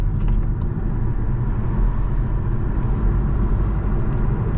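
Inside a Škoda Superb Sportline 4x4 estate on the move, a low, steady engine and road rumble fills the cabin with only faint, brief clicks and no talking.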